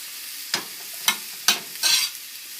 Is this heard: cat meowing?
no